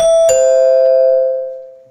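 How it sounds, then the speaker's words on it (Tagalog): A bright electronic doorbell chime rings out clearly, two tones in quick succession, then the last note rings and fades away. "may nag-doorbell na sa bahay ko."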